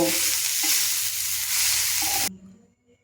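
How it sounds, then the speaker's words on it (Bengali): Vegetables for a breakfast dish being stirred and tossed with coriander leaves in a hot pan, a loud steady sizzle with scraping stirs that cuts off abruptly near the end, followed by quiet clinks. "এবার সবজিগুলোর সাথে ধনে পাতাটা ভালো করে মিশিয়ে আমি এটাকে একটা পাত্রে ঢেলে নেব"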